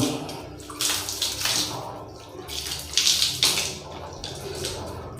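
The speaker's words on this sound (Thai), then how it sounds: "ก็ เปิดวาล์วน้ำนะครับ เมื่อเปิดวาล์วน้ำแล้วนี่ท่านผู้ชม" Water gushing and splashing in a bathroom after the valve on a leaking electric water heater is opened, flowing in several loud bursts that swell and ease over a steady rush, close by.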